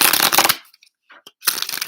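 A deck of cards is shuffled up close in two crisp riffling bursts, separated by a short near-silent gap with a few faint ticks.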